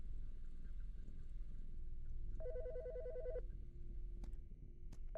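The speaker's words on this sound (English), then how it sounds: "The fucking phone." A telephone in a video game rings once with a bright electronic trill lasting about a second over a quiet low ambient hum, with a couple of faint clicks afterward.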